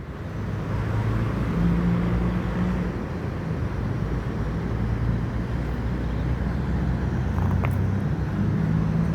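A bus with a Jetbus 2 body drives past with a steady, broad engine and road rumble that holds level throughout, with no voices.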